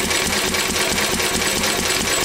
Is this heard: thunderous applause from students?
no